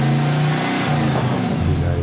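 An LS V8 swapped into a small Chevy Blazer 4x4 revs hard, its pitch sweeping up and falling back in one loud, close throttle blip before settling into a rumbling idle.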